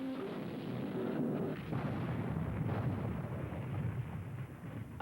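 Heavy naval guns aboard the Dreadnought battleship fire as a loud, sustained rumbling roar of booms that fills the whole stretch with no voices.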